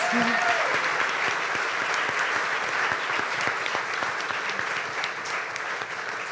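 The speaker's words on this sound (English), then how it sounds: "Let's give Adam a round of applause" An audience at a community crowdfunding event applauds a presenter with steady, full clapping that holds for over six seconds, a brief voice audible at the start.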